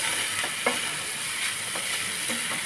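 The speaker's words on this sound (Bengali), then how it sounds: "তো ম্যাগিটাকে দিয়ে এটা একটু আমি নাড়তে থাকবো।" Maggi noodles frying with egg and onion are stirred in a pan: a steady hiss of sizzling oil with a few soft scraping strokes of the spoon.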